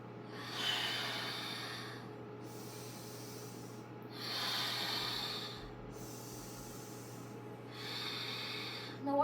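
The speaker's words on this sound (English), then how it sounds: "In through the nose, move your hips from side to side, out through the mouth." Slow nasal inhales and mouth exhales during a fascial movement exercise class, three soft airy breaths in even rhythm over a steady low hum, fairly close and quiet.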